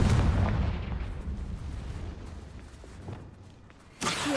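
Confringo spell explosion in the Hogwarts Legacy video game, a deep booming blast that rumbles and fades over a few seconds before a second sharp burst at the end.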